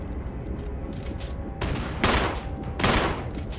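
Two loud, broadband gunshot blasts about a second apart sound in Resident Evil HD Remaster, each ringing briefly over steady game background noise. No one speaks.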